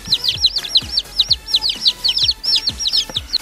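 Rapid high-pitched peeping from a group of chicks, nearly continuous and close by, with occasional low clucks from a hen underneath.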